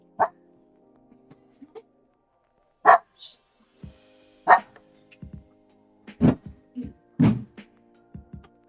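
A dog barks in a few separate loud bursts with short yips between them, close by and sparse over a quiet room.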